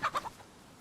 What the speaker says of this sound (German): Warte, das ist sogar ein Hahn.